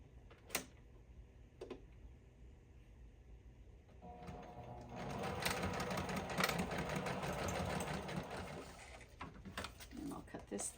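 A sewing machine stitches lace onto a junk journal page, running for several seconds in a steady mechanical whir, with short clicks and handling noises before and after.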